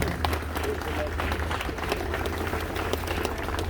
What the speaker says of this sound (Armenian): Բոլորիս ծափահարությունները։